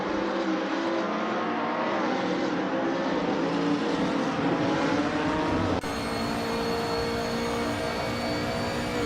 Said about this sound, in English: Bot Exclusigox is driving a 27 and 7 BMW 320S, which is a solid choice, but not the fastest in this field